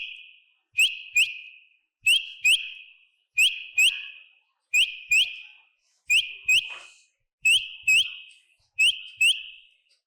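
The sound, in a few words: quail whistling notes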